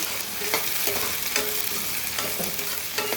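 A spoon stirs chicken curry with mint and coriander frying in a pan, giving a steady loud sizzle with repeated scraping strokes roughly every half second, close up and without talk.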